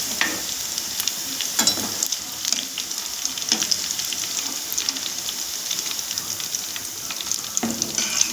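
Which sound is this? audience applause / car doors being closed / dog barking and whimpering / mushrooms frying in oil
mushrooms frying in oil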